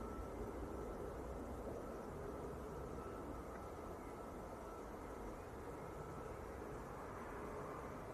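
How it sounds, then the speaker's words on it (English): An Embraer jet arriving at Manchester Airport from Aberdeen makes a broad, steady roar that sounds distant and even throughout, with no talk. "So this Embraer coming in from Aberdeen."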